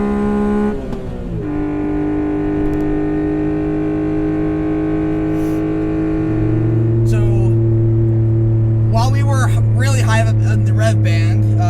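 A Honda Beat revs loudly on the move, its engine note droning then climbing and settling at a higher, steady pitch, with people talking over it in the cabin.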